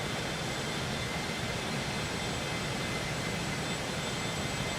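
An airplane engine in the flight simulator X-Plane 12 gives a continuous, broad roar with a steady level throughout and no voices.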